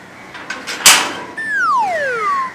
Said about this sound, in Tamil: கதவு சத்தம் சத்தம் கேக்குதே